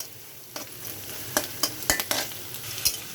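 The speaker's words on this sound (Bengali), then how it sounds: "তো দেখুন আমার পেঁয়াজ মরিচটা ভাজা হয়ে গেছে" Onions and chillies fry in a pan while a spatula stirs them, soft steady sizzle broken by several sharp scraping strokes at uneven intervals, close and alone with no talk.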